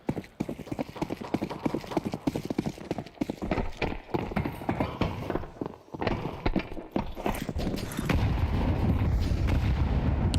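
Two grenade explosions in a Counter-Strike match, sharp bursts amid dense rapid gunfire and clattering game effects, loud and busy, with a steadier roar taking over near the end.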